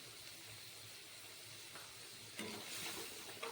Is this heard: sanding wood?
no